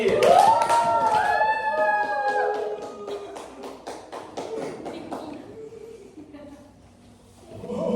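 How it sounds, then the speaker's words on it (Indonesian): Schoolchildren in an elementary classroom clap for a classmate, a cluster of sharp taps and slaps that thins out over several seconds, with children's voices over it. "silakan beri tepuk tangan untuk Ramli"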